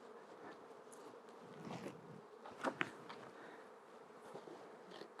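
Honeybees buzzing steadily in an opened farm hive, a dense, continuous insect drone heard close with a few brief louder swells partway through.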